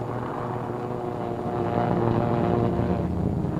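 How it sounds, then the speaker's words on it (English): A B-25 propeller bomber takes off from an aircraft carrier deck during a wartime task force launch, its engines droning steadily and growing slightly louder, alone without voices. "Another B-25 to join the formation circling over the task force until all the 16 planes can get into the air."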